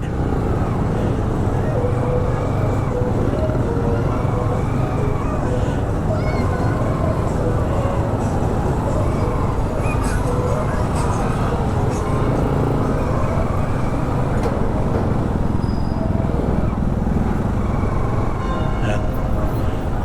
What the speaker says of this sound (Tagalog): grabe rin ang traffic dito sa San Jose